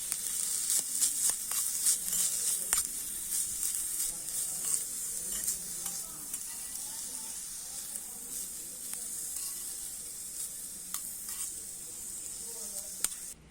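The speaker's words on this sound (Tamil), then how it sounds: "இப்போ இதை சேர்த்து நல்லா வணக்கிக்கலாம்" Boiled chickpeas sauté in masala in a hot pan, a steady bright sizzle throughout with scattered ladle taps and scrapes, close and fairly soft, continuing without pause.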